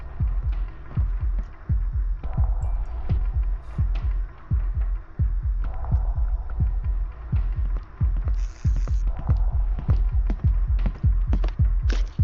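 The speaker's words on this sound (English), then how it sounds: "I can hear my heart beating." Heartbeat sound effect in a horror video game, a low throbbing pulse repeating steadily and rapidly under a constant hum, with faint game noises scattered over the top.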